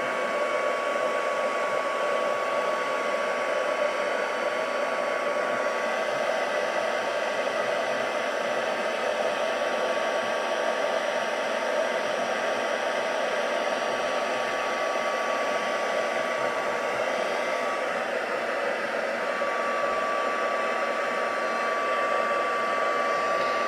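A heat embossing tool blows hot air in a steady, unbroken whoosh with a faint high whine, close and continuous throughout with no talking.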